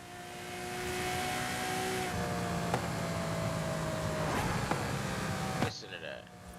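Ferrari engine in Forza Horizon 5 revving up through the gears, a loud droning whine whose pitch steps down at each shift, then a sharp drop near the end, with a voice talking over it.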